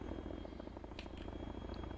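A helicopter comes in to land in the military video game ARMA 3, its rotor producing a steady, rapid thumping throb that stays close and constant throughout.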